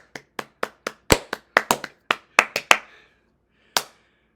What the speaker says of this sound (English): Round of applause for Boose, everybody.